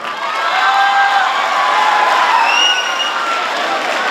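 An audience at a college welcome program cheers and claps, a dense, steady wash of crowd noise with whoops and shouts rising over it, loud and continuous.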